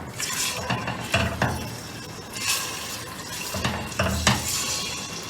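Mutton frying in oil with ginger garlic paste for arvi gosht, with bursts of sizzle and clattering scrapes of a spoon against the pot every second or so, close by, with no one talking.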